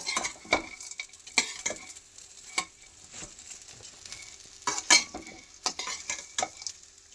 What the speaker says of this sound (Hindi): इसमें आधा चम्मच मैंने घी डाला है, और उसके बाद में ड्राई फ्रूट डाल दे रही हूँ। तो हल्का सा मुझे ये भूनना है